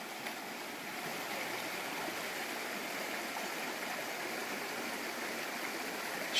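A stream rushes and burbles in a steady, unbroken wash of water, close and fairly even, with no voices.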